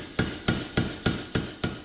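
Steel being hammered while forging a Damascus knife: six evenly spaced, sharp metallic blows, close and loud, ringing in a steady rhythm with no voices.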